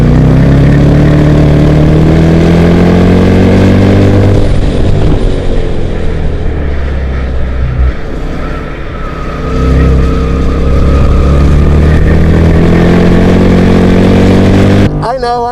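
A 2014 Jeep Grand Cherokee SRT driven hard on the Formula 1 race track in Austin, Texas, its engine loud and close, revving and shifting through rising and falling tones, with a brief lift near the end.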